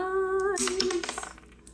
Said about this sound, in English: Let's roll some dice.